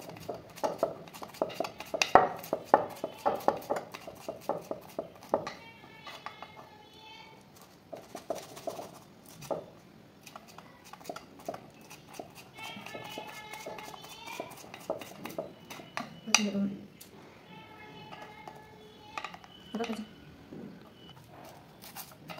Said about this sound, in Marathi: मिरची पण बारीक चिरून घ्यायची।